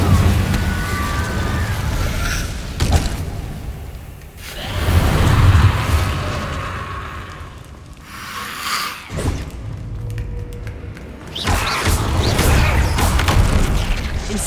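An Incendio fire spell is cast in a video game, loud whooshing bursts and booming fiery roars that surge, fade and return in waves.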